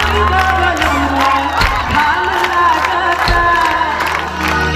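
A live crowd at the Rajdevi temple in Janakpur claps and cheers loudly and steadily, with scattered whoops and shouts rising over a continuous roar of hands.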